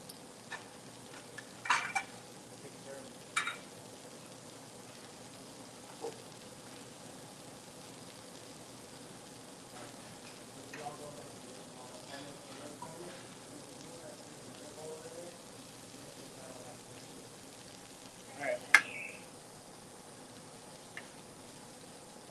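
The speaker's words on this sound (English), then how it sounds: "And you can hear that sizzle, right? That's that sound that we're looking for is that sizzle." A ribeye steak sizzles in a hot pan, giving a steady low hiss broken by occasional pops and crackles.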